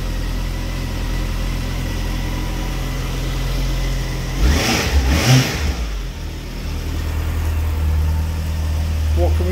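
An ABS-equipped motorcycle engine idles steadily after a cold start, a close, even low rumble that briefly swells with a short rev midway before settling back to idle.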